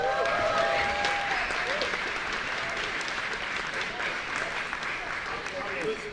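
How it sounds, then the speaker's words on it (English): A conference audience in Lisbon applauds a team walking on stage, a dense, steady wash of many hands clapping that fills the room while a voice talks over it. "Come on, you can applaud them."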